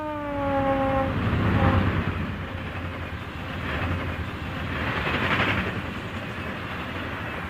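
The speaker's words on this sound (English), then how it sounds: "The next train to pass was train number 28, the Broadway Limited." Pennsylvania Railroad passenger train No. 28, the Broadway Limited, rolls past with a loud steady rumble and wheel clatter. A horn blast opens the pass, and the noise swells and eases again as the cars go by.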